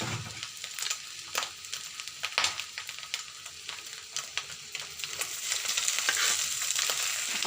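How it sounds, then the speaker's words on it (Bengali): Rice and egg frying in a hot pan, with a steady broadband sizzle and repeated scraping, stirring clatters of a spatula against the pan throughout, close and fairly loud. "ভাত আপার জন্য ভাত ভাজতেছি"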